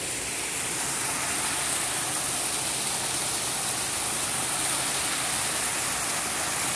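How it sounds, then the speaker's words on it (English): Steady, loud rush of a waterfall near a dam after heavy rain, continuous broadband roar without pause. "Turn around and get a nice look at this waterfall."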